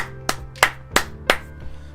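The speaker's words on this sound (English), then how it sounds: "Round of applause." A few sparse, loud hand claps close to the mic, about five separate claps spaced roughly a third of a second apart over a faint steady hum, with no voices.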